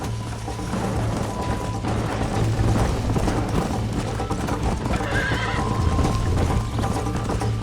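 Rapid hoofbeats clatter continuously as horses gallop in the video game Red Dead Redemption, with a horse's whinny rising briefly partway through over a low rumbling background.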